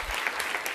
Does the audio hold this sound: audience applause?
yes